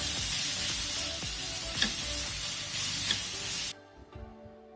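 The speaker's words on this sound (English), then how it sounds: "I'm adding around 80 grams of crushed ginger and garlic. Saute this well." Crushed ginger and garlic sauté with onions for mushroom biryani, a loud, dense, hissing sizzle with a few stirring knocks that cuts off abruptly, leaving quiet clatter; no speech.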